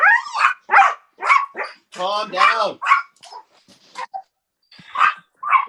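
Several excited pet dogs bark and yip in short, loud, close bursts, with a few whimpers mixed in, while a person talks among them.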